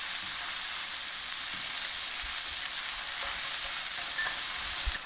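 Chipotle peppers and garlic sauté in browned butter, a steady, loud, close sizzle that runs unbroken throughout, with faint crackles scattered on top and no voices.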